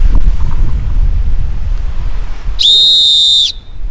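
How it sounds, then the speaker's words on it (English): A hiker's emergency whistle, clipped to a backpack on the South Downs Way trail, is blown once in a single shrill, steady blast of about a second, following a stretch of outdoor wind rumble with no talking. "the only thing I've had clipped to my bag is this whistle"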